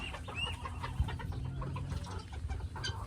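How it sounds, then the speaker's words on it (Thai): A guinea fowl gives quick, repeated chattering calls at close range over a low farmyard background, with no talk. "นี่เป็นไก่ต๊อกค่ะ"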